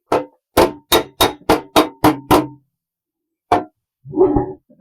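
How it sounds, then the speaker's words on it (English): A spoon taps down high and low spots in a dented car body panel, with a run of eight sharp, evenly spaced strikes, then a pause and a single hit before a short muffled sound. "I will start gently hammering down high spots and low spots as well"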